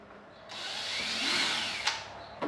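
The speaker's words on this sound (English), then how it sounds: "I'm going to drill my hole right there." A power drill whirs up close, its pitch rising and settling as it bites into a kayak hull, followed by a couple of sharp clicks.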